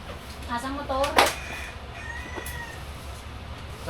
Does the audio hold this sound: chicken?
yes